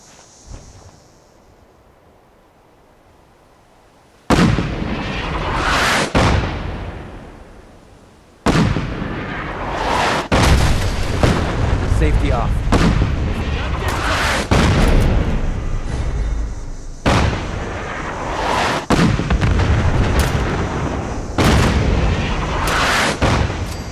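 Castle artillery in Fallout 4 fires in survival mode: after a quiet start, a series of heavy booming blasts and rolling explosions arrive in irregular bursts, loud and reverberant, continuing through most of the stretch.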